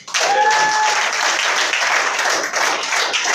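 A church congregation applauds in a dense, steady burst of clapping that starts abruptly and holds at full strength, close and loud, with a faint voice or cheer under it.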